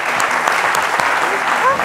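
Studio audience applause for five contestants on a French midday TV show, steady dense clapping filling the short stretch, with faint cheering mixed in.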